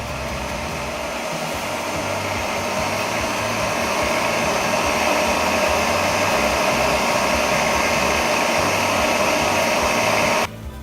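An electric mixer whips egg whites and sugar for a pavlova, running as a steady, loud, even whir for about ten seconds before cutting off abruptly near the end.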